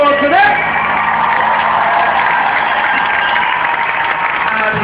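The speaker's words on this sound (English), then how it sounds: "Big round of applause for them." Audience at a concert in Berlin cheering, whooping and applauding, a loud continuous wall of crowd noise with a few sharper shouts rising at the start.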